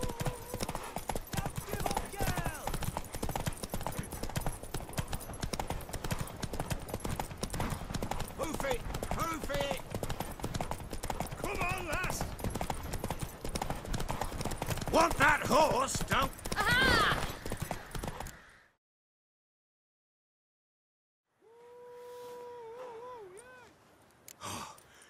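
Horse hooves clip-clop steadily on the ground in The Witcher 3 video game, a rapid rhythmic clatter mixed with a horse's breathing and whinnying before an abrupt cut to near silence with faint tones.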